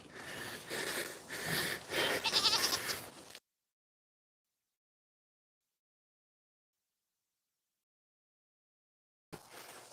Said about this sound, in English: So the goats are coming down here now.